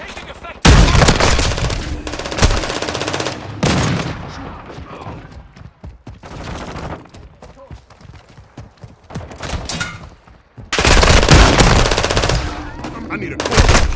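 Loud, dense automatic gunfire in Call of Duty: Modern Warfare II, heavy bursts at the start and again near the end with scattered shots and battle noise between.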